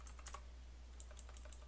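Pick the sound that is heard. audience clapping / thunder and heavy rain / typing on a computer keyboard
typing on a computer keyboard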